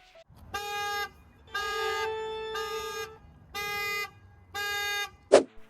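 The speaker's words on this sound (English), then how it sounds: "we're gonna do a quick alarm demo" A Tesla's alarm horn honks in five long, loud blasts with short gaps between them, followed by a brief sharp click at the end.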